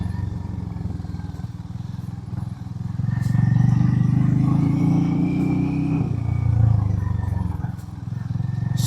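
A 400cc cruiser motorcycle engine rumbles steadily while riding, rising in loudness midway, with faint clattering from a rough gravel road underneath.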